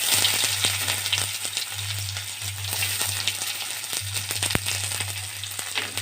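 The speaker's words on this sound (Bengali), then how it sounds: "আর কাঁচা লঙ্কা এটাকে আমি একটু ভেজে নেবো" Chopped onion and green chili sizzle steadily in hot oil with nigella seeds and dried red chili, a dense close crackle with occasional sharper pops and faint scrapes of a utensil.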